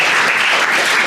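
Loud, dense applause from an audience at a school farewell ceremony honouring a teacher, a steady close wash of clapping throughout.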